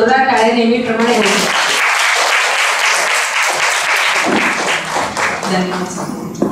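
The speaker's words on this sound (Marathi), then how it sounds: "एकदा जोरदार टाळ्या नेहमीप्रमाणे होईल." Loud, sustained applause from an audience at a Tilgul (sesame-jaggery) gathering, a dense crowd clapping steadily for several seconds before tapering slightly at the end.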